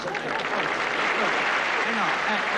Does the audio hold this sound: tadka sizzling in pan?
no